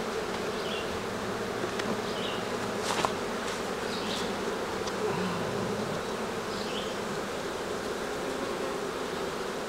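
Honeybees buzzing steadily around an opened hive during a hive inspection, a dense continuous drone close by with a few individual bees flying nearer past it, and nobody talking.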